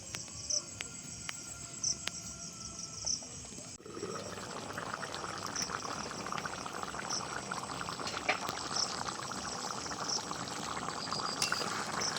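Chicken simmers in a covered pot of spiced water for rezala, a soft continuous bubbling hiss. It swells into a denser, steady boil partway through and stays faint throughout.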